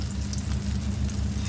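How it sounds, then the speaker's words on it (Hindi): Dense, steady sizzling of mutton resha kebabs frying in hot mustard oil, a loud continuous crackle and hiss heard up close with no voices. "अब उसमें एक एक करके हम कबाब को इस तरह से अच्छे करके एक एक डालते जाएंगे।"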